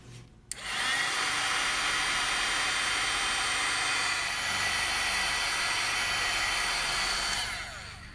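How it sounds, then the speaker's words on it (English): A heat embossing gun switches on with a click and then blows a steady, loud rush of hot air for several seconds, close to the microphone, its roar easing slightly near the end. "I'm going to bring out the heat embossing gun"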